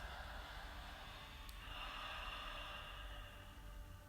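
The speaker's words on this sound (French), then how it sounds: "vous pouvez resserrer légèrement la glotte pour entendre" Slow nasal breathing through a slightly constricted glottis during an evening yoga practice, a soft, steady rushing hiss like distant surf, heard alone and close.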